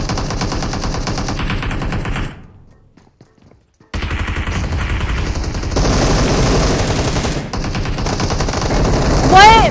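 A SCAR-L rifle fires in single-shot mode in a video game, steady repeated shots loud and close, broken by a short quiet gap before the firing resumes even louder; people talk over it.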